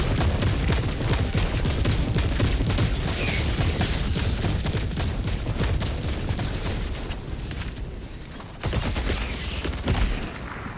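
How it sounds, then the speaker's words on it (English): Orbital barrage strike in Helldivers 2, a dense, continuous roll of heavy booms and rapid blasts rumbling loudly throughout, briefly dipping before another burst of explosions near the end. "Orbital barrage incoming."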